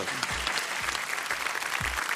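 A studio audience on the French TV game show Mot de Passe applauds steadily, a close, dense burst of clapping with a few low thumps underneath.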